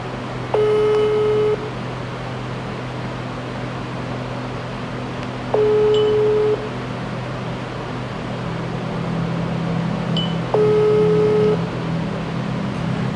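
Ringback tones sound on a phone line while calling back, three evenly spaced long beeps about five seconds apart over a steady electrical hum and hiss.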